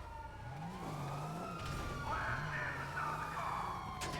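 Police car siren wailing in GTA 5 during a hillside chase on dirt, a rising and falling tone steady throughout over engine rumble and revving, with sharper electronic siren bursts later and a faint voice.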